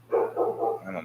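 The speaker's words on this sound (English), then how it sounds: "I don't know what my dogs are barking at" Several dogs bark outdoors in a short run of three or four rhythmic woofs at moderate distance, with a steady low hum underneath.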